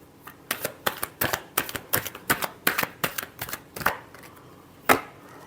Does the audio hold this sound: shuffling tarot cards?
yes